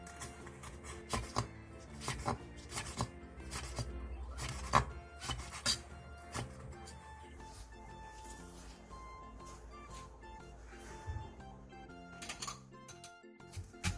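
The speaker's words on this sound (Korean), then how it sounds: "씨를 제거한 청양고추는 길게 채 썰어주세요." A knife juliennes seeded Cheongyang chili peppers into long strips for Korean cold soup and water kimchi. Quick, uneven taps on a cutting board come in bursts and pauses, close and crisp, with no speech.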